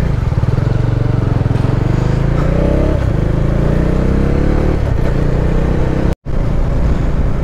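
A motorcycle is ridden at the start of a trip out of Guwahati toward Ladakh. The engine throb and wind roar run loud and close throughout, and cut out completely for a brief instant near the end.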